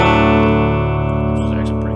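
Electric guitar run through a Mooer Radar cab simulator set to a Fender Twin Reverb cabinet, a fairly clean sustained chord ringing loud and steady, slowly decaying with a slight shimmer.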